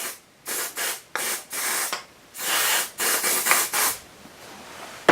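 Repeated hissing bursts from an aerosol can of PTFE lubricant spray, close up, in short and longer squirts with brief pauses between them.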